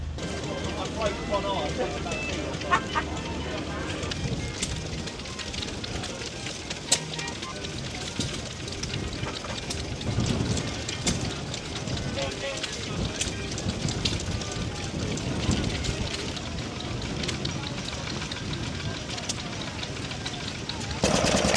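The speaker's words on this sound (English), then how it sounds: "A 1942 GMC 6-wheel drive truck, complete with a Perkins P6." A 1942 GMC six-wheel-drive truck fitted with a Perkins P6 diesel runs at an outdoor vintage rally, its rough, steady engine rumble blended with wind buffeting and background noise, while a voice talks over it.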